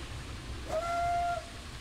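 The steam whistle of Corris No. 7, a narrow gauge locomotive on the Esterdale Narrow Gauge Railway in a train game, gives one steady, fairly loud blast of about half a second over low rumbling running noise.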